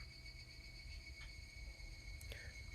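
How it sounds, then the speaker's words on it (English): Higurashi cicadas chirp faintly in a Japanese summer setting, with thin high trills drifting over a low, quiet ambient rumble. "The sound of higurashi, a kind of cicada endemic to Japan, tells us that it's summer."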